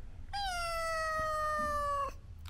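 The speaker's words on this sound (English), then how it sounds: "But we have the cat here." A scared female cat gives one long, drawn-out meow lasting nearly two seconds, clear and fairly close against a quiet indoor background, with no one talking.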